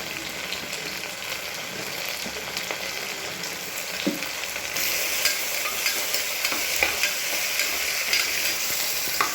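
Chopped tomatoes fry and sizzle in hot oil for capsicum biryani, with a steady crackle and repeated scraping stirs that grow louder and busier partway through, close and without talk.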